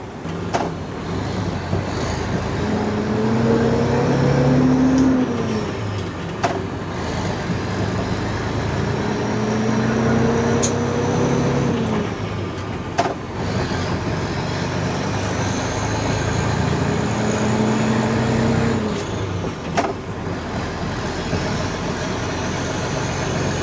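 A semi truck's diesel engine drones steadily as the rig is driven, its pitch rising and falling through repeated gear shifts, with a faint whistle and occasional clicks above the rumble.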